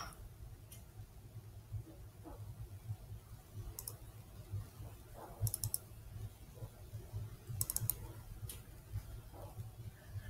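A computer mouse clicks a few times, with faint, isolated, crisp ticks spaced several seconds apart in a quiet room.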